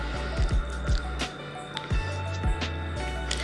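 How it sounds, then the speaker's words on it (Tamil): Roasted, ground masala paste spooned into a pan of sautéed onions for a coconut-based Sankara fish curry, giving close, soft wet squishing thuds in an irregular series over a faint background hum. "இப்போ வறுத்து அரைச்சா மசாலா பேஸ்ட் அதில் சேர்க்குறேன்"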